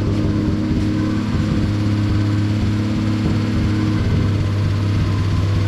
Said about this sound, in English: Lovely smooth engine.